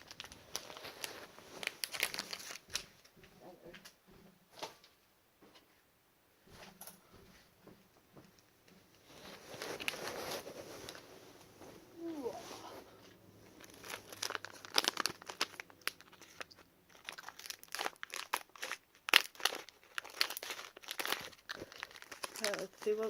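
Plastic and paper packaging of Halloween figures crinkles and tears close up in repeated bursts over about twenty seconds, with a few short pauses, and faint talk is heard occasionally.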